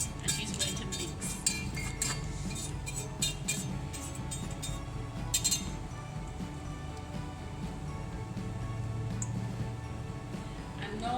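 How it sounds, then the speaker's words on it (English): A spatula works pharmaceutical powders around a mortar, giving a steady run of light scraping and clinking taps, some sharper clicks in the first half, over a constant low background hum. "She's using her spatula to ensure that all the powders remain towards the center of the mortar, and she's going to mix"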